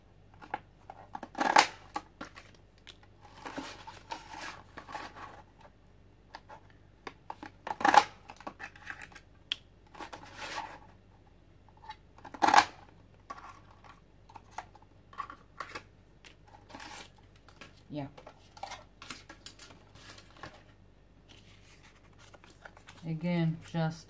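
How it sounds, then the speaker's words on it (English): Circles being punched out of painted paper with a hand punch, a series of sharp crisp clicks spaced several seconds apart over rustling paper handling, close and fairly quiet. "Right now I need more leaves, so I'm going to punch more circles out of this."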